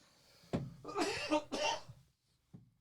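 A few close, harsh coughs in quick succession, followed after a pause by one more short cough, in an otherwise quiet room.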